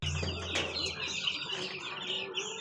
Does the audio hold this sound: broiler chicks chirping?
yes